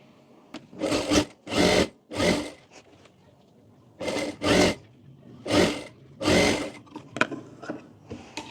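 A sewing machine stitches blouse fabric in about eight short, loud, whirring bursts, grouped in pairs with pauses between them, followed by a few small clicks at the end.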